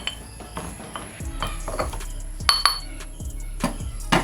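Blue Heart candy is crushed in a mixing glass with a series of sharp clinks and taps against glass, uneven in rhythm, close and fairly loud.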